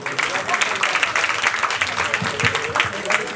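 A crowd at a Hindu devotional jagran for Maa Bhagwati claps loudly and enthusiastically, a dense, slightly uneven burst of applause lasting a few seconds.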